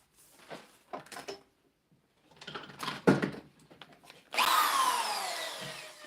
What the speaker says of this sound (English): We're going to drill a couple pilot holes here